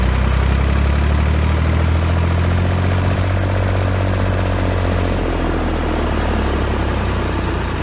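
Small Fordson Dexta tractor engine runs with a heavy, low, chugging throb, revved slightly and held steady, loud and close throughout with no talk.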